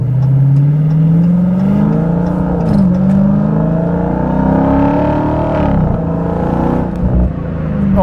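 A 717 hp Dodge Challenger Hellcat Jailbreak accelerates hard from inside the car, its engine pitch rising and dropping through gear changes, loud and close.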